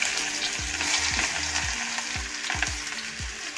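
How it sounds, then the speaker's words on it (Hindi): Loud, steady sizzling and crackling of fenugreek, garlic and spices frying in very hot oil for a tempering, with intermittent stirring clinks, close up and continuous throughout. "तो अब छोंक लगाना है बढ़िया वाला है पूजा।"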